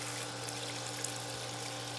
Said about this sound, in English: Now the machine is filling. Cold water.